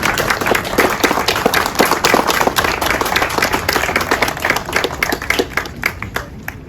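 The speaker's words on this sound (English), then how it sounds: "Please do applaud." Loud, sustained applause from an outdoor crowd at the unveiling of a Wellesley memorial to American Revolution veterans, following a Colonel Henry Knox Artillery Regimental Color Guard; dense steady clapping throughout, tapering slightly at the end.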